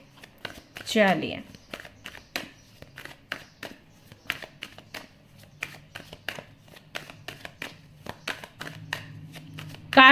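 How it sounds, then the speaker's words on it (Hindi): Tarot cards are shuffled by hand in quick, crisp riffles and taps that come in a scattered rhythm throughout, while someone talks over them. "कार्ड शफल कर रही हूं।"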